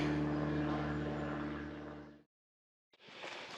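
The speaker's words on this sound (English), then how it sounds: "There he is. DNR plane. Department of Natural Resources." A Department of Natural Resources propeller plane drones steadily overhead over a woods road, a loud continuous engine hum that fades out, followed by a brief silence and then a different broadband noise returning.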